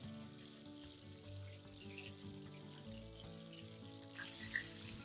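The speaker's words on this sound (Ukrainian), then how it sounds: "Бачите, як наше масло бурлить?" Oil bubbling and sizzling steadily in a frying pan while a pork steak fries, a continuous crackling hiss with a brief clatter near the end.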